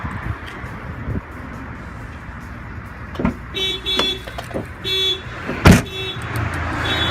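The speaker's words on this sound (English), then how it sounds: "anything they open, the alarm will fire off" A van's newly installed car alarm goes off after a door is opened, with a run of short repeated chirps and a sharp loud burst near the end over a steady background hum.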